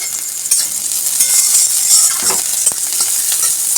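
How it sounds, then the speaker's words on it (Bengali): Chopped green chili and onion fry in a pan with a loud, bright, continuous sizzle up close. Stirring scrapes and a faint clink of a utensil come partway through, and no one speaks. "তো চলো ভেজে নিই আবার লঙ্কা পেঁয়াজটা প্রায় ভাজা কমপ্লিটের দিকে"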